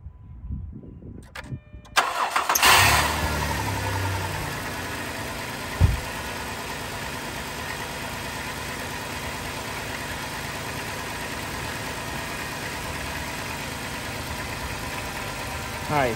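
A car engine, tested for a blown head gasket with a block tester in the radiator, cranks and catches after a brief quiet start, then settles into a steady, low idle with one sharp knock partway through.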